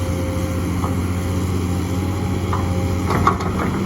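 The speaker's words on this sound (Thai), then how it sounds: "เนี่ยเจ้า XCMG เสียงกระหึ่มเลยครั" A heavy XCMG excavator engine, a 6BG1, drones steadily nearby, a constant low rumble with a humming tone, with a few faint knocks toward the end, while digging a pond.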